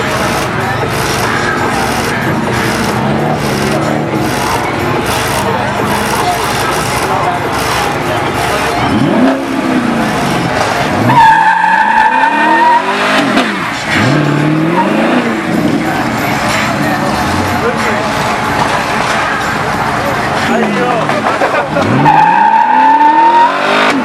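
A Chevrolet Camaro at a night car meet does a burnout, engine revving hard with repeated rising and falling pulls and squealing tires, loud and close, with crowd voices and shouts around it.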